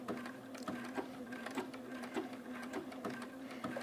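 A sewing machine stitches blanket stitch along the edge of an appliqué shape with an even, rapid mechanical patter, running steadily at close range with no talk.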